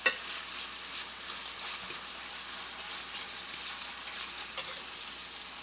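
Food sizzles steadily in a hot pan, a continuous close hiss of frying with faint bubbling and no voices.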